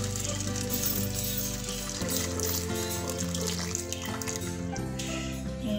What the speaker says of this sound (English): So I'm just adding boiling water so that it will start the cooking process slightly faster.